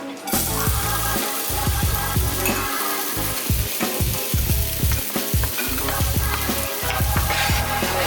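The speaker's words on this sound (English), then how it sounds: "I'm gonna go ahead and saute those." Fire-roasted vegetables and mushrooms sautéing in a hot pan, a loud continuous sizzle broken by repeated rhythmic clatters and scrapes of stirring, close up with no voices.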